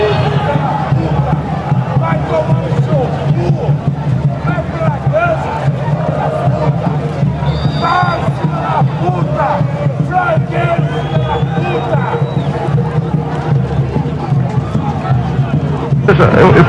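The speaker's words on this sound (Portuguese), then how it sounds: "Olha mais torcida xingando aqui ou se manifestando." A football crowd in protest shouts insults: a loud, dense mass of voices yelling and chanting from the stands throughout, with a steady rumble of babble.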